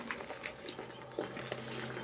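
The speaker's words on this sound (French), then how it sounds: "Je vais reposer la chaîne à l'endroit où elle était" Metal chain being set down, a few faint, light clinks and rattles scattered across a quiet room with low background hum, no talking.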